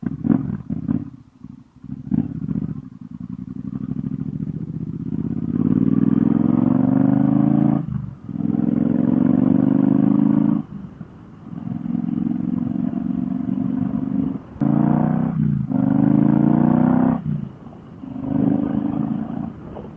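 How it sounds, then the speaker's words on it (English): A Triumph Speedmaster motorcycle engine revs and roars loudly in repeated surges, dropping briefly between gear shifts as the bike rides along. "I just love the way this bike sounds."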